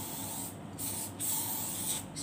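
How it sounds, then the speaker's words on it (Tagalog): Leaf shine spray misted over the leaves of a wedding flower arrangement, heard as several short aerosol hisses in close succession with brief gaps between bursts, near and fairly loud. "Then, lagyan natin siya ng shining."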